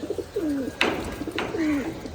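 Pet pigeons coo in two soft, rolling calls, each followed by a sharp clap of wing flutter, close by and alone without voices.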